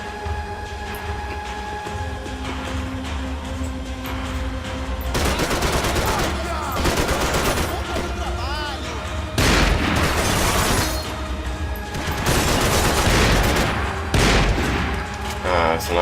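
Sustained bursts of automatic gunfire from laser-sighted weapons in the Max Payne 3 video game, loud and dense, arriving in several heavy volleys with brief lulls between them and a voice faintly under the action.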